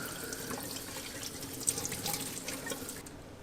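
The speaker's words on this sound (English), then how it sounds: "Just give my turkey a little rinse." Tap water runs steadily over a raw turkey in a kitchen sink, a soft continuous splash and patter close by with small irregular spatters as the bird is rinsed.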